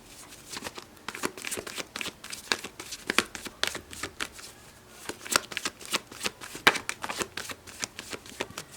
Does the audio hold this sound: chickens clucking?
no